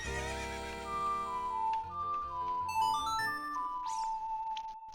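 A horse neighs and whinnies in the Zelda Ocarina of Time video game as it is summoned, with a rising synthesized musical tune and chimes playing along for several seconds.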